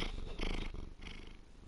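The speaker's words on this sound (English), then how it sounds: "It's my cat purring into the microphone." A domestic cat purrs right against a microphone, a close, steady rumbling purr with rhythmic breathing pulses, fairly quiet and alone without talk.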